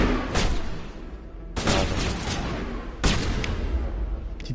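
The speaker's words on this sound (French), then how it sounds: "Petite fusillade là." Gunfire in the video game Mass Effect comes as three sharp bursts a second or so apart, each followed by a dense, noisy rattle of shots at moderate loudness.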